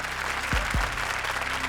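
Studio audience applause on the Comedy Circus 2 stage, a steady wash of many hands clapping at moderate loudness, with a couple of low thumps partway through and no talking.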